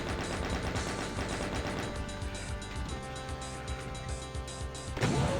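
A chaingunner enemy firing in Doom TNT Evilution, rapid continuous bursts of gunfire with a steady rattling rhythm, loud and dense throughout, ending in a sharper crash.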